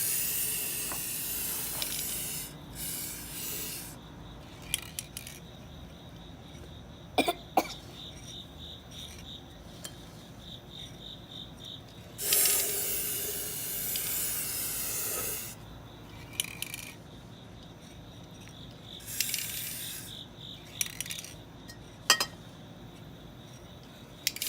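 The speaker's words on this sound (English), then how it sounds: "you go ahead and spray it lightly" A spray can sprays inside a glass pumpkin in several short bursts of hissing spray, one longer than the rest, between quiet stretches, with occasional clicks and a thin steady insect-like buzz in the background.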